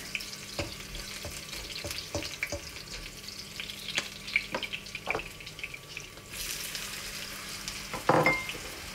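Garlic and onion sizzle in a frying pan for Filipino ground-beef kaldereta, a steady close crackle broken by scattered clicks and stirring scrapes, with a louder burst of sizzling near the end.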